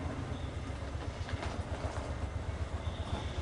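An Amtrak passenger train rumbles past at Harpers Ferry at steady volume, with low rolling noise and faint rhythmic clatter of wheels over the rails, no voices.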